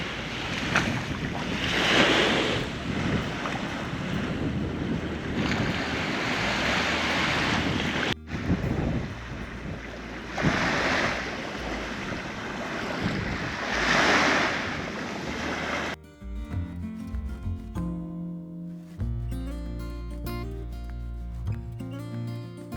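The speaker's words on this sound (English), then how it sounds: "listening to the waves crashing into the beach whilst you're trying to go to sleep at night" Ocean waves crash and wash onto the beach at Osprey Bay on Ningaloo, a steady loud surge with wind noise over the microphone and no talk, then music takes over for the last seconds.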